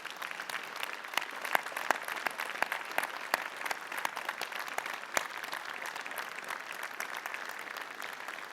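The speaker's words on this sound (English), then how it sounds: "would you offer a round of applause to your family and friends for their support" Steady applause from a convocation audience honouring graduates' family and friends, many hands clapping evenly throughout, moderately distant in a large hall.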